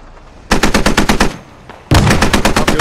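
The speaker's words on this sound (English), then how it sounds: "Up goes the MRAP." Automatic gunfire erupts in the military shooter Squad as an MRAP vehicle is destroyed, with two long loud close bursts of rapid shots separated by a short pause.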